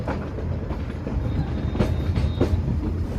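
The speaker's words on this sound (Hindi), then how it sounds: "हमारी ट्रेन अपने अंतिम स्टेशन नेपालगंज रोड स्टेशन पर पहुंच चुकी है" A metre gauge train runs on the Bahraich–Nepalganj Road line, a steady rumbling roll with faint clickety-clack wheel beats and occasional sharper rail knocks, continuous and fairly close.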